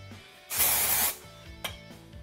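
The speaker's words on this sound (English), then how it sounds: "Spray a whole load of this into my roots" A single burst of dry shampoo aerosol spray hisses loudly for about half a second, close by, followed by quieter rustling.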